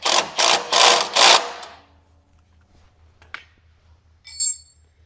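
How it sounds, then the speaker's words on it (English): A 9/16 socket wrench tightens a bolt through a heim joint on an RC mower drive actuator, giving four quick ratcheting bursts close up, then quiet with a faint metallic tick and a short high clink. "Use a 9/16 wrench to hold the heim joint while we use our 9/16 socket to tighten the bolt."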